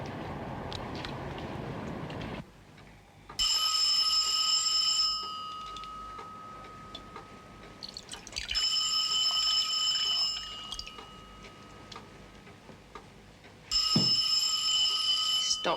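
An old-style telephone bell rings in repeated bursts with quiet pauses between them, fairly close and clear, in a 1982 drama.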